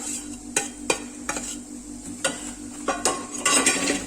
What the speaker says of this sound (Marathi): तीळ सोप हे सर्व छान फ्राय व्हायला पाहिजे